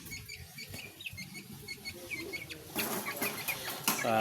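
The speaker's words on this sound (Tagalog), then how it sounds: "Ayan ang manok natin" Chickens out in the sun give soft, scattered clucks and higher peeping calls, close by, growing busier and louder toward the end with no talk over them.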